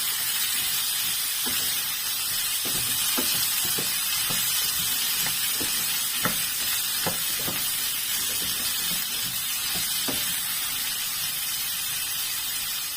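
Garlic, onion and sardines sizzle in a hot pan as a home-cooked sautéed sardine and chayote dish begins, a steady close hiss and spatter lasting throughout with scattered sharper crackles and pops.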